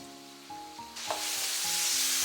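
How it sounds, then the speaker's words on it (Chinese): Diced lotus root and garlic stems stir-fried over high heat in a wok, seasoned with salt, oyster sauce and soy sauce; the sizzle swells loudly after a few soft scrapes, with spatula strokes tossing the food. "然后大火给它翻炒均匀，炒出锅气"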